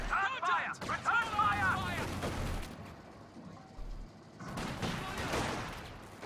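PTRS anti-tank rifle fire in a Company of Heroes 2 battle: several sharp, loud reports and crashes in bursts, with mechanical whines and a quieter stretch between, overlaid by a voice talking.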